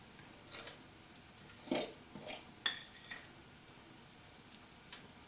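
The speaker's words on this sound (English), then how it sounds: "I prefer just taking a fork and stirring it up." A fork stirring a thick Texas cowboy stew mixture, with a few faint scattered clinks and scrapes against the dish, quiet and sparse.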